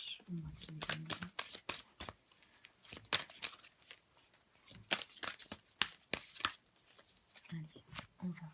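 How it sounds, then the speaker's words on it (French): Tarot cards shuffled by hand in a sequence of crisp riffling bursts and soft slaps, close and fairly quiet, with a voice speaking quietly underneath at times. "Allez, on va tirer les cartes."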